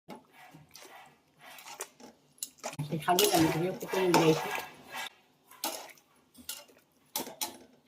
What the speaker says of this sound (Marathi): आता हे पाण्यात पूर्ण हालून ठेवायचं झालं